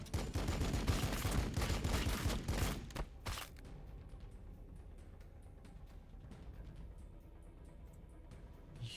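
Rapid gunfire in Warhammer 40k: Battlesector, a loud burst of repeated shots over the first three seconds, then fading to faint scattered effects and quiet ambience.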